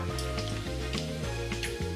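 Food sizzles and fries in hot oil in a pan, a close, continuous crackling hiss with no talking.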